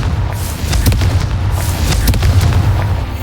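Confringo blasting-spell explosions go off in a Harry Potter video game, dense rumbling booms with repeated sharp bursts and crackling over a constant low roar.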